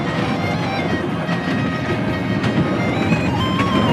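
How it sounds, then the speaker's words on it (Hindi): A small amusement ride train runs on rails near a lakeside Mahadev temple in Pali, with loud continuous rumbling and clattering wheels close by for several seconds and no talk. "आज वापस मैं ट्रेन का आनंद ले रहा हूँ"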